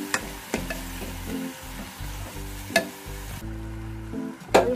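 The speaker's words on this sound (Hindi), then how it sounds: "अच्छे से ऑयल के साथ फ्राई होने देंगे" Soaked lentils frying with spices in hot oil in a pan for an aachari dal, with a steady close sizzle broken by several sharp spoon-stirring scrapes and clinks.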